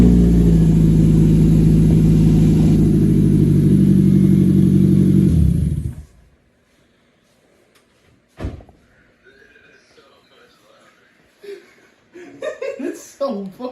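A straight-piped Nissan Versa with glass packs fitted rumbles at a loud, deep, steady idle close by for several seconds, then cuts off abruptly, leaving near quiet followed by a sharp knock and people laughing and talking.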